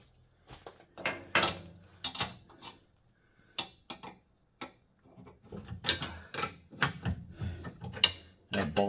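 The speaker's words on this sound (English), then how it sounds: "so I'm going to have to use a wrench to get it off" A hand wrench works a bolt close to the frame rail under a Toyota Tundra, making irregular metallic clicks and scraping turns in short bursts, fairly quiet and close, with no talk.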